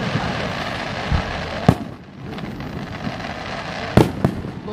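Crackling rain-type firework bursts, a steady fizzing shower with two sharper pops standing out, heard at moderate distance outdoors.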